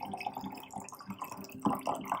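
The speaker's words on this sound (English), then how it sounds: "now it's time to put our water kefir into the jar" Water kefir is poured by hand, without a funnel, into a jar, giving soft, faint splashes and drips that come in uneven bursts, with the strongest gush near the end.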